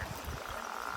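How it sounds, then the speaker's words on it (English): A toad croaking outdoors, a steady faint low croak over a second amid background insect and water noise, with no talking. "Can you guys hear the toad?"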